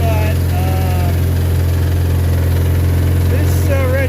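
A red tractor's engine runs at a steady idle, giving a deep, constant low drone with a mechanical hum throughout, while faint voices come and go over it.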